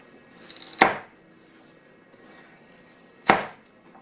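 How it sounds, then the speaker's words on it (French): A knife cuts a firm-fleshed vegetable into smaller pieces for vegetable soup, giving two sharp, close chops on a board about two and a half seconds apart, with quiet kitchen movement between them. "On va le couper en plus petits morceaux."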